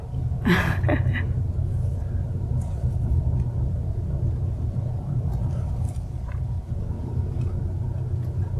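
A manual-transmission pickup truck's engine gives a steady, loud low rumble from inside the cab while accelerating on the road. The pitch holds fairly even throughout, with faint higher rattles on top.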